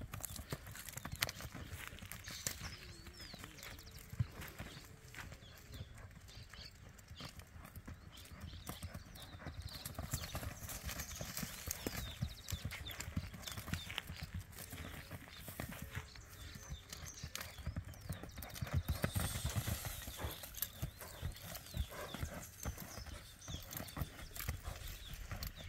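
Steady hoof clip-clops of a small horse walking at an even pace, close by, with faint background voices and outdoor noise.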